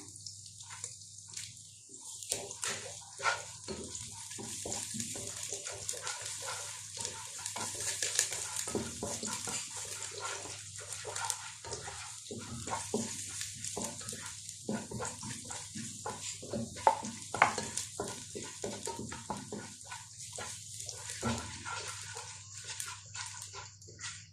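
Ginger sautés in a pan for chicken soup, giving a soft steady sizzle while a utensil stirs and scrapes intermittently and close by.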